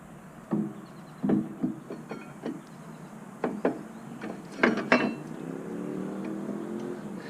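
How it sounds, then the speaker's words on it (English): Metal caliper being fitted back over the rear brake rotor of a Harley touring motorcycle, giving a few sharp clinks and light scrapes close by, with short knocks spaced through a quiet garage. "All right, let's get the caliper back on the rotor."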